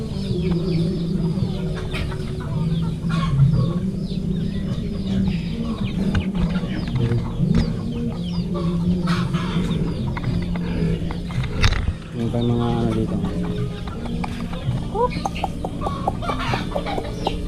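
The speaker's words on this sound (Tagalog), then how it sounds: "Ay manok pala to." Chickens cluck and squawk repeatedly nearby, a busy flock, while a person talks over the noisy birds.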